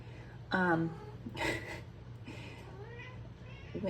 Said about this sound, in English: My little Winifred cat is going nuts because she wants to get up on the cabinet